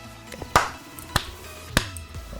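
Three sharp, isolated hand claps spaced evenly about half a second apart, close and fairly quiet, over a faint room background.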